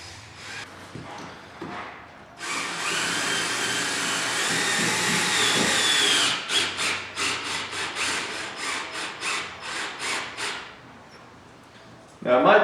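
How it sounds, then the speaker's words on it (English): A drill with a Phillips bit drives a stainless steel self-tapping screw into an EZGO golf cart's diamond plate panel: a steady, close whirring grind for several seconds, then a run of short rhythmic bursts. "then we'll grab a drill with a Phillips head on it, and then we got our stainless steel self-tapping screw"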